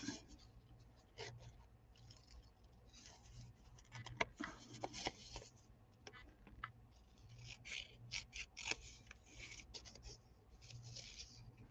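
Thick paper being slowly peeled and torn on a desk, giving soft intermittent rips and rustles over a steady low hum, fairly close and quiet.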